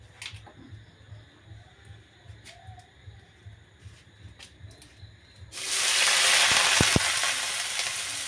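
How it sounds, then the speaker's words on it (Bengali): Green chillies and chopped onion tipped into hot oil in a kadai for a dried-fish curry: a quiet room with pigeons cooing gives way to a sudden loud, sustained sizzling hiss. "এখন এর মধ্যে দিয়ে দেবো মরিচ আর পেঁয়াজ কুচিটা।"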